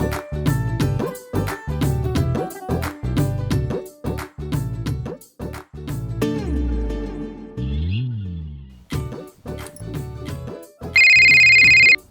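A mobile phone ringtone plays a loud, close melodic tune of repeated bright notes and chords in a village setting, with a sharp electronic beep near the end and no talking.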